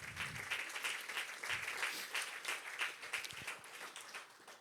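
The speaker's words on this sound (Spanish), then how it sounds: "Dale un fuerte aplauso al Señor." Faint, steady congregation applause during a church service, a continuous wash of hand clapping with a few low voices underneath.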